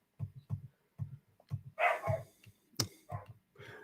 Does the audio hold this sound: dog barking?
yes